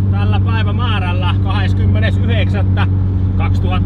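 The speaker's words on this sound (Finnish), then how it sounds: "no pakoäänet on aika kovat, mutta nyt se on liikenteessä todistetusti" A BMW E30 M3 drives at low revs near 3000 rpm with a loud, steady exhaust drone that runs throughout, while someone talks over it.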